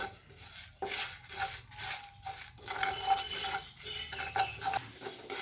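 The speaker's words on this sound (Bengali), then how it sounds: "এবার বাকি মশলাগুলো সব দিয়ে দিচ্ছি একসাথে ভেজে নেব ভালো করে" Spices dry-roast in a pan over a low flame while a utensil stirs them, producing rhythmic scraping and rustling strokes at close range with no talking.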